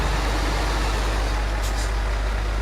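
A heavy truck braking in Euro Truck Simulator 2, a loud continuous low engine rumble with a brief hissing burst of air brake partway through, no talking.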